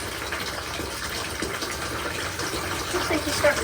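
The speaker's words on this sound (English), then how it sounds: "I'm just running nice warm water in here for her." Warm water runs steadily from a tap into a bath for an injured Polish chicken, a continuous close gushing and filling sound with small splashes near the end.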